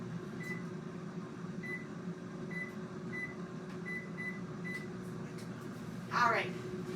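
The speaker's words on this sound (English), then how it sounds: "So, macaroni is in the microwave." A microwave oven cooking macaroni hums steadily in a kitchen while keypad-like beeps from nearby appliances sound at intervals, with a brief clatter near the end.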